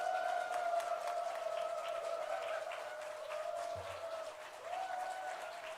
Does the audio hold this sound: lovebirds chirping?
no